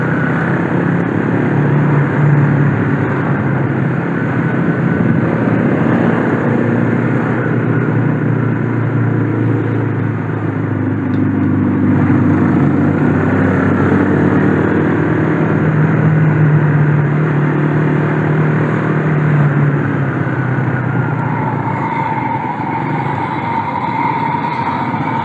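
A sport motorcycle engine with a 12,500 rpm redline running under load on the road, a loud sustained drone with rising pitch sweeps as it revs, steady and continuous without pause.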